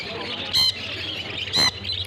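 Two short, harsh budgerigar squawks about a second apart, sharp and nearby at the Garia bird market over a faint steady background.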